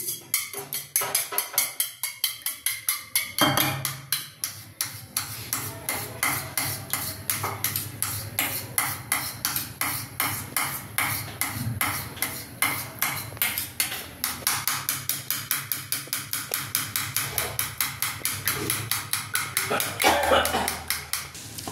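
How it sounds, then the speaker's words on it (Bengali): Three eggs with a little salt beaten in a bowl, rapid rhythmic clinking of utensil against the bowl repeating steadily throughout, close and fairly loud. "3টে ডিম একটু নুন দিয়ে ঘেটে নিচ্ছি"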